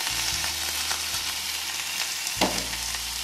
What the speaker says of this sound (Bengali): ভাজা ভাজা করে নিতে হবে পেঁয়াজটাকে, লাল লাল করে।